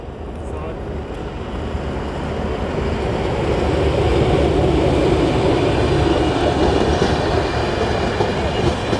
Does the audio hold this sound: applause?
no